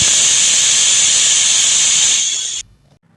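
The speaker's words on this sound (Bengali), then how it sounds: "এবারে আরও 4টে থেকে 5টা সিটি দিয়ে নেব" A pressure cooker cooking mutton lets out a loud, steady steam whistle that hisses for about two and a half seconds, then cuts off abruptly into near silence.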